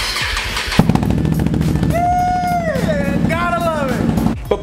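A Can-Am Outlander ATV fitted with a Yoshimura exhaust runs nearby, its engine droning steadily with rising and falling revs under a voice talking over it.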